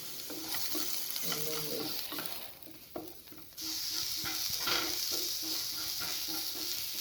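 A spoon stirs ghee frying in a pan for a duck egg fry, with a steady close sizzle, scraping strokes and clinks against the pan throughout.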